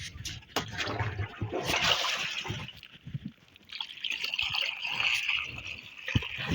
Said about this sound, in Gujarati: આપણો પંપ ભરાઈ રહ્યો છે